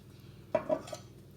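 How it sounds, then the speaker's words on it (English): A spoon scrapes and clinks in a bowl while a spice and oil marinade for steak is stirred, one sharp clink followed by a couple of softer scrapes, close and brief. "I'm just going to mix everything together and let it marinate for at least 2 hours."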